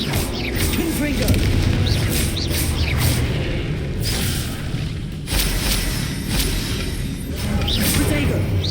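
Confringo fire-blast spells burst in the Hogwarts Legacy video game, heard as repeated booming whooshes over a dense, loud background of combat noise and music, with brief dips between blasts.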